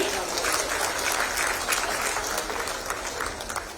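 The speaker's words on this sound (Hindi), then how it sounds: "आपकी तालियां बजती रहनी चाहिए।" Applause from an audience at an official government ceremony fills the hall, dense steady clapping sustained throughout at moderate loudness.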